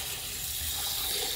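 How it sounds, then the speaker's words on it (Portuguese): Water is poured into a cooking pot for feijoada, giving a steady, close rushing splash that lasts the whole moment without a pause. "Então nós vamos colocar a água."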